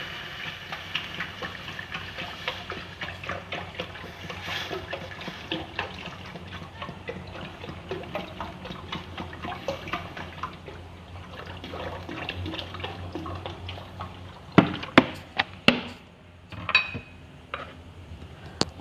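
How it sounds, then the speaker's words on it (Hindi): Six glasses of water are poured into a pot of whole masoor lentils for cumin rice, a steady close splashing stream with a few louder sloshes near the end and no voices. "6 गिलास पानी डालेंगे।"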